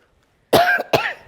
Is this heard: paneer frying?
no